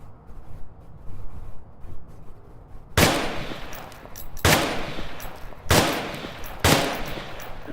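Rifle gunfire in the Onward VR shooting game: after a quiet stretch, four sharp, loud single shots ring out at roughly one-second intervals, each followed by a short echoing tail.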